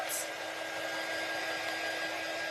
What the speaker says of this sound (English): I'm going to hit it with the dryer really quickly.